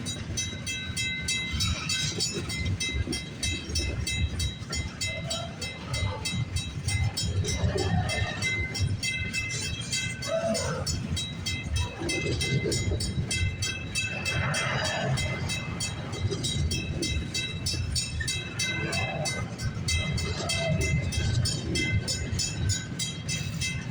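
A long CN freight train rolls past steadily at a rural crossing at Pefferlaw Road in heavy rain, a continuous loud rumble of wagons with clattering wheels and faint squeal, no break across the whole stretch.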